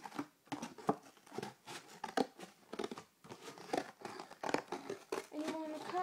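Sharp-pointed scissors cut a doorway hole in a homemade hamster house, giving a run of crisp snips and crinkly crunches in an uneven rhythm, close and fairly quiet.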